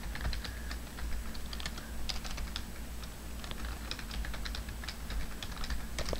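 Steady typing on a computer keyboard, quick irregular clicks of keys close to the microphone in a quiet room, with no talking.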